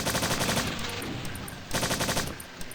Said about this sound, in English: look how accurate this assault gun is now